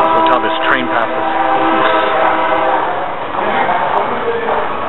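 A train passes close by, loud and sustained, with a horn sounding out over a rumbling, harmonically rich roar that fills the whole stretch and dips briefly before swelling again.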